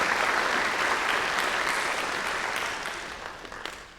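An audience at a scholarship night claps in sustained, dense applause that holds steady, then gradually fades toward the end.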